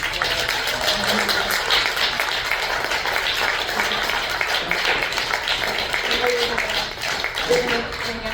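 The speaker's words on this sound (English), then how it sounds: "let's all give Judy a giant round of applause" Audience applause for author Judy Grahn at a book reading at Housing Works, a steady round of clapping from a crowd throughout, with voices mixed in.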